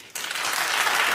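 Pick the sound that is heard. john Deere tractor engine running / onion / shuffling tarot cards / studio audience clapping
studio audience clapping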